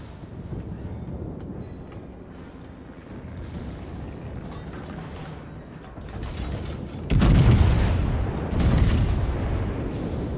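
Heavy naval gunfire from a video-game warship battle involving Yamato and Montana battleships: low rumbling booms build through the clip, with a loud burst of deep blasts near the end, no talk.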